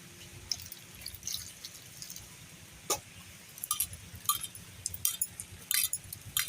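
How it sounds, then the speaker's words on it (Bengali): Small peeled potatoes are washed in a bowl of water, making irregular drips, splashes and light clinks as they are handled up close, with no voices. "এবার আলুগুলো আমি ধুয়ে নেবো।"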